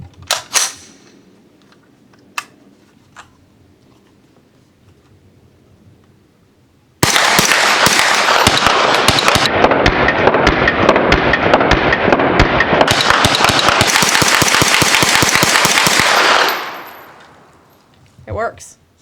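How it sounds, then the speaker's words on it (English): Rapid-fire magazine dump from a Jard J68 bullpup carbine with Freedom Munitions ammunition at an outdoor range: about nine seconds of loud, continuous gunfire that stops abruptly, with a few isolated shots and faint sounds before and after. "We're going to do our mag dump and see how it performs."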